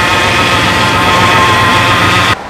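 A rebuilt 360 engine idles at about 800 RPM, producing a loud, steady, close droning rumble with a constant hiss, running alone until it drops away abruptly near the end.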